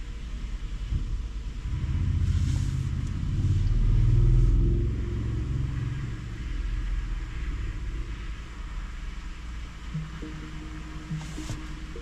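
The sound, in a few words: road traffic with cars passing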